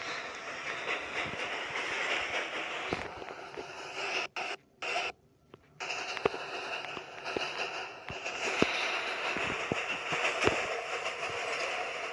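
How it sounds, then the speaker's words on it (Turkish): A Roblox game train rumbles steadily along the rails with a clattering, whooshing roar, briefly cutting out twice before continuing with occasional sharp clacks. "Evet tren hareket ediyor."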